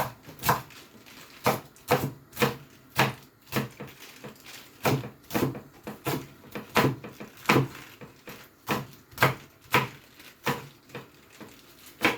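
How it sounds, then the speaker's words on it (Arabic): Vegetables for soup are chopped with a knife on a board: a long, fairly even run of sharp, close knocks, about two each second, with nothing else heard. "غادي نقطعو كامل هادشي"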